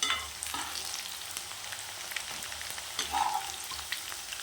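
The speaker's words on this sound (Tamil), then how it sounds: "கத்திரிக்காய் போக இந்த அளவுக்கு வதங்கினது" Brinjal pieces sautéing in a pan while a gravy is made, giving a steady close sizzle and frying crackle throughout, with a few brief stirring scrapes.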